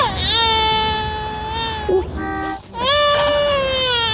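Baby crying used as a comedy-sketch sound effect: a loud, wailing cry with rising and falling pitch and a short break in the middle, with a voice speaking briefly.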